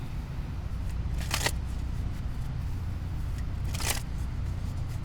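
Tarot cards are shuffled and handled in two short, crisp riffling bursts about two seconds apart, close up over a steady low background hum, with no one speaking.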